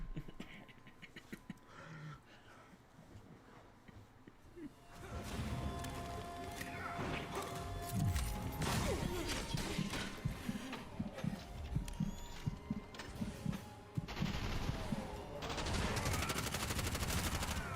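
A grenade launcher fires in Bright Memory Infinite, with heavy thumping blasts and crashing impacts building into a loud, dense stretch of explosive combat noise after a quieter start.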